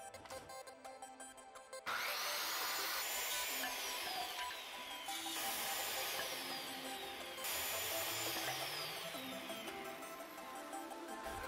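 A power saw whines up and cuts through wooden boards in repeated passes, the pitch sweeping down as each cut bites, loud and close.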